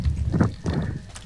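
Minecraft donkey in the video game, heard as a couple of short, low, hoarse grunting bursts from the game's animal sounds, fairly close and loud with no talking over them.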